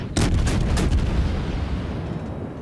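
Heavy naval gun salvo from a warship firing at an enemy citadel in World of Warships, a loud booming burst of several close blasts followed by a rumbling decay with no talk.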